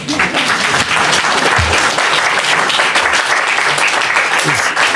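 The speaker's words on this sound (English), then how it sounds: "If anybody feels like applauding, you can applaud" An audience bursts into sustained applause, a loud, thick continuous roar of clapping hands that stays even from start to finish with faint voices mixed underneath.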